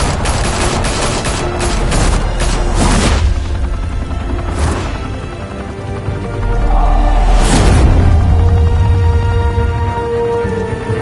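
Gunfire erupts in the Telltale Batman video game, a loud fusillade of rapid overlapping shots with heavy booms and a few separated blasts, plus a deep rumble midway.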